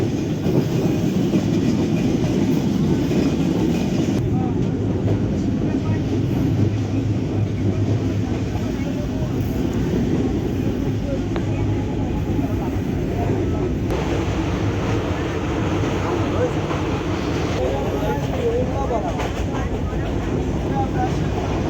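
A train crossing a broken bridge rumbles past close by, a steady heavy roar with rhythmic wheel clatter lasting throughout, loud and continuous.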